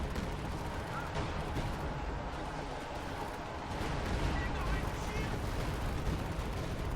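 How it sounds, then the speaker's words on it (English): Stuka dive-bomber air strike in the Company of Heroes 2 battlefield, a dense continuous roar of explosions and gunfire rumbling without a break, growing somewhat louder partway through. "I call him a Stuka strike, trying to dish out damage."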